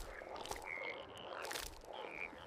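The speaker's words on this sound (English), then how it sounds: "Frogs swarmed the land, filling homes and palaces." Frogs croaking in a faint, continuous chorus of overlapping calls with a low background wash, no talking.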